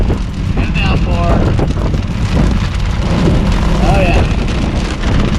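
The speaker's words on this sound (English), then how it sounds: "It's raining. It's raining very hard." Heavy downpour drumming on a 1994 Dodge Viper during a storm, a dense roaring wash of rain with wind buffeting, loud and continuous, while someone speaks briefly.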